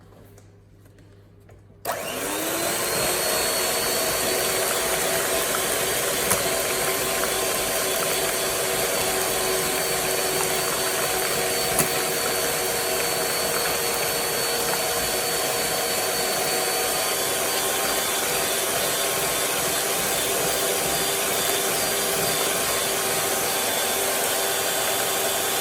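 Electric mixer beating Nutella cake batter, switching on after a brief quiet start and then running as a steady, loud, continuous whir with no talking.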